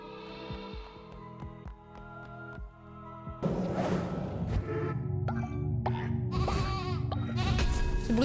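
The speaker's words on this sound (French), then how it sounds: "Ce bruit de mouton, pas du tout crédible." Sheep bleating in the video game Cult of the Lamb, several wavering bleats layered over a soft game hum, loud and close, the last few stacked in quick succession.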